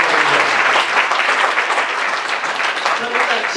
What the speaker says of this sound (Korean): 이때 좀 박수 한번 쳐주면